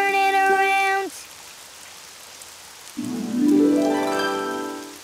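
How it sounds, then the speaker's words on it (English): Cartoon rain falls outside in a steady soft hiss, with bright musical tones sounding at the start and again near the end. "Oh, it's raining outside."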